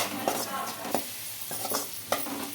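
Frying with turmeric and salt in a pan, a steady close sizzle with a spoon stirring and knocking against the metal at a slow, uneven rhythm, and no one talking.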